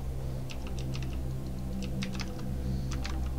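Computer keyboard arrow keys pressed in short scattered clicks and clusters, close and fairly quiet, over a steady low background hum with no talking.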